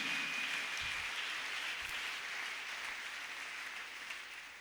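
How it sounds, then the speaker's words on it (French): Applause from a church congregation during a worship service, a steady broad wash of clapping that fades slightly toward the end. "Acclamons Jésus"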